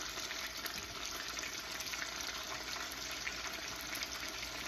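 Water pours into a pot of roasted bones and meat for birria, giving a steady, continuous gushing and splashing that runs close and unbroken, with no talk.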